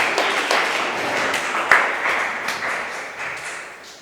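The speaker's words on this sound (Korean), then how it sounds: "박수." Congregation applauding during an Easter Sunday service in a church, a steady broadband wash of many hands clapping together, moderately loud and sustained throughout without speech.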